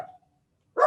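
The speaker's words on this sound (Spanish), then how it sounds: "¿Quién tiene el perrito, Miguel?" A small dog gives one sharp, close bark near the end, after a faint trailing sound and a stretch of near silence.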